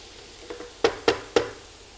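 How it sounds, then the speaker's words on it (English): Stirring in a korma curry pan with chicken or Quorn after adding garlic salt and pepper: three crisp spoon-against-pan scrapes at even spacing, preceded by two softer taps over a faint low sizzle. "stirring through the garlic salt"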